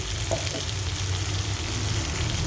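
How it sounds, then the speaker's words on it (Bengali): Spice masala for egg curry fries in a pan with a dense, steady sizzle and a faint scrape of stirring, close and without talking. "এখন কষাতে থাকি"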